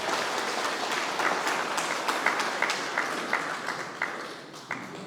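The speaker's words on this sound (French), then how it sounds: "Un grand applaudissement encore une fois." A crowd at a political rally in Mauritius applauds with sustained clapping, a few sharper individual claps standing out near the front.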